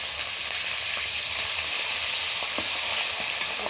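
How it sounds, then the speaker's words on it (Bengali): Hilsa fish heads fry in hot oil with a constant loud, dense sizzle and scattered sharp pops, close up and without any voices. "একটু ভালো করে ইলিশ মাছের মাথাটা ভেজে নেব"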